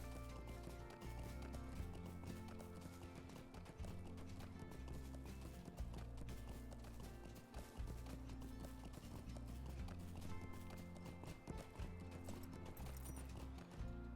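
Horse hooves gallop steadily in the Lord of the Rings Online video game, a continuous rhythmic clip-clop of a steed from the plains of the Wold, with occasional whinnies over a layer of game music.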